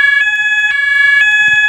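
A loud, steady electronic fire alarm tone in a Roblox game, sounding continuously and close, with brief pulses and a short low thump near the end.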